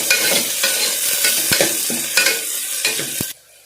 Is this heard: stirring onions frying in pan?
yes